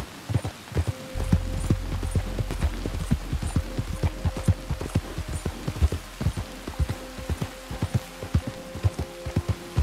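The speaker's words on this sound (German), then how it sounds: "Nee, das ist ein Pferd." Horse hooves clip-clop steadily in the video game Red Dead Redemption 2, a close, regular thudding beat over a low constant hum with no voices.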